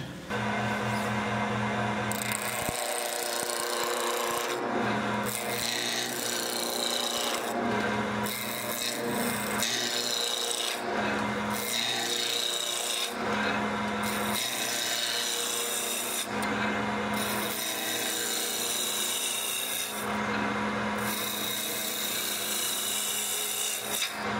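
Laminated yellow birch blank spinning on a wood lathe while a chisel scrapes and rasps against it, a steady close rubbing with a low motor hum and brief pauses between cuts.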